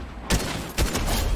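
Gunfire in a Fortnite match: after a brief quiet start, two loud, sharp bursts of shots ring out close by over a dense, continuous crackle of battle noise.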